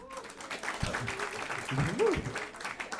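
Comedy club audience breaks into scattered applause mixed with laughter and murmuring, while a stand-up comedian's voice carries over the top at moderate level.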